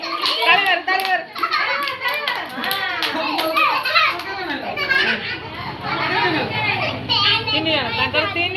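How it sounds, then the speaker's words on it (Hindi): Children playing a hand-clapping game, their chattering and chanting voices close and loud, with quick claps mixed in among the speech. "ताली मार"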